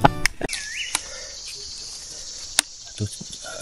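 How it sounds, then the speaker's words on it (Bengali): Crickets chirp steadily in Singalila forest, a constant high trill with a few scattered clicks and a brief bird-like whistle, fairly close, no talk. "পাখি ঝিঝি পোকার শব্দ আপনারা নিশ্চয়ই শুনতে পাচ্ছেন"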